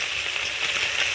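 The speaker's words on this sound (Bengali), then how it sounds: "তো দেখো ছোটো মাছের নিচে মাছ ভাজা চলছে।" Small fish frying in a pan in a home kitchen, a steady close sizzle and crackle of hot oil that carries on without pause and with no voices.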